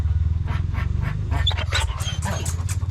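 Dogs pant close by in quick, rhythmic breaths, with a few sharper whimpering or yelping sounds mixed in.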